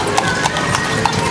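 Horse hooves clip-clop on a street in Cienfuegos, Cuba, a steady rhythm of hard knocks at moderate distance over a constant background hum.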